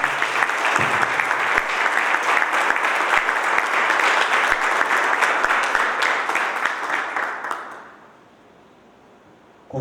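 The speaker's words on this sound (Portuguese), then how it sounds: "Vamos dar a Ele uma salva de palmas em nome de Jesus." A church congregation claps together in a dense, steady burst of applause that runs strong for about eight seconds, then fades quickly into near quiet.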